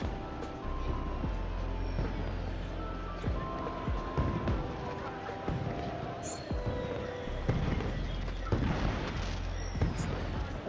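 Fireworks burst continuously in a video game, a dense, steady wash of crackling pops and low booms layered over ongoing game ambience.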